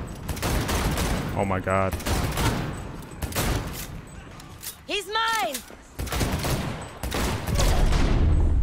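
Gunfire in the video game Cyberpunk 2077 rattles in rapid bursts throughout, loud and dense, while a player's voice exclaims over the shooting.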